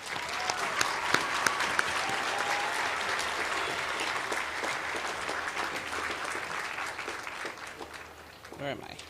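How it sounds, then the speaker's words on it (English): Sustained applause from a large commencement audience honoring new graduates at a Pacific University undergraduate ceremony, dense and steady for most of the stretch before thinning out near the end. "Please join me in applauding these graduates."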